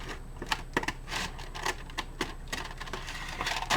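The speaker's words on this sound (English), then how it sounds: "I'm just going to trim this so the ragged edge of it is off" A ragged paper edge on a handmade folio journal is being trimmed, giving a close series of crisp, irregular snips and slicing scrapes at a brisk, uneven pace, with no talking.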